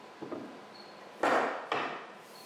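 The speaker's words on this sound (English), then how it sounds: "I smoothed them out, taking tiny bites with my shoulder plane" A shoulder plane takes a few short trimming strokes across wooden half-lap joints for a trestle-style dining table leg, two distinct scraping passes after faint light knocks, close and quiet in a workshop.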